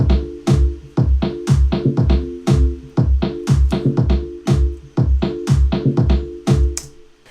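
A tribal Latin-flavored house percussion loop plays: punchy four-on-the-floor kick, melodic marimba notes and sharp claps on beats two and four, repeating steadily, loud and close with no voices.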